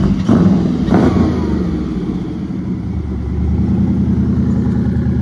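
A loud, deep engine rumbles steadily with a couple of sharp revs at the start, a throaty, dragster-like car idling close by.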